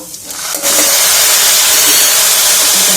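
Tomato and tamarind hit a hot pan while cooking Rayalaseema-style dal with fenugreek seeds, setting off a loud, steady sizzle that swells after a brief quieter start and hisses on without a break.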